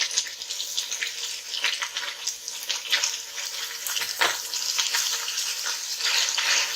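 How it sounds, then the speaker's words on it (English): Meat browning in a hot pan for Italian soup, a steady close sizzle with crackling spatters and occasional stirring, no voices. "And then we'll just start the browning process."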